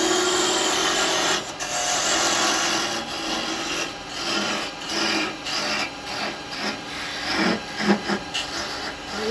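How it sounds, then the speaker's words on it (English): Steady wood-cutting rasp from a lathe, with a parting tool scraping against spinning wood in uneven bursts, close and fairly loud throughout. "I'm coming with my little parting tool here."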